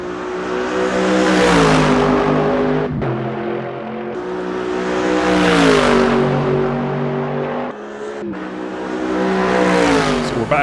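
A Mercedes GT3 race car in the Assetto Corsa racing game, heard onboard, howls loudly as the engine climbs through the revs in three long pulls, with brief drops at each gear change.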